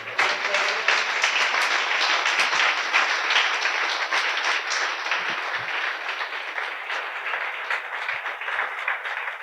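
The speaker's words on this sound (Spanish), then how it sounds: "¿Cuántos le brindan un fuerte aplauso a Él?" A church congregation applauds steadily and loudly, a dense wash of clapping hands that fills the space without pause for several seconds.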